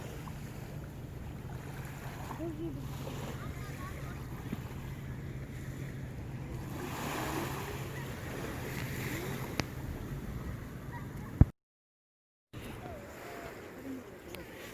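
Waves wash steadily along the shore at Eulwangni beach, a constant roar of surf mixed with wind buffeting the microphone, broken by a brief dropout, with faint voices nearby.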